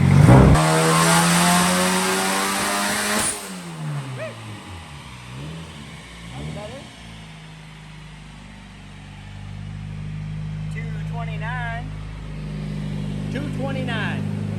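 A turbocharged Honda CR-V engine revs hard, rising and falling in pitch with a whooshing turbo note, loud and close, then settles to a rumbling idle.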